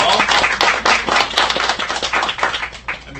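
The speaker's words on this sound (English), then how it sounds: "let's give everyone a round of applause for their work" Audience applause for the organizers of an elementary school math bee, a fairly loud burst of many hands clapping in a steady patter with some sharper individual claps throughout.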